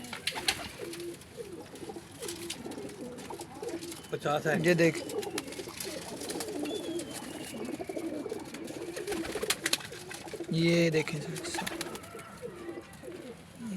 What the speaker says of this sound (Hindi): ये सारे मेन कबूतर हैं हमारे।